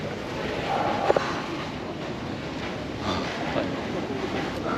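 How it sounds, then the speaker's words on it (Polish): A train rumbles past on the rails with a steady broadband roar and faint clickety-clack, a brief squeal of metal near the start. "Patryk, nagraj jak jedzie pociąg."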